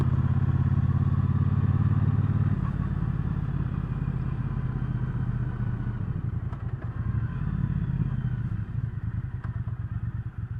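A 2019 Triumph Speedmaster motorcycle engine rumbles steadily and loudly throughout, with a low drone and some mechanical clatter, as if heard while riding.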